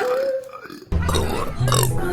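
A loud, drawn-out burp erupts after a brief pause, with a second guttural belch following shortly after, close to the microphone amid household chatter.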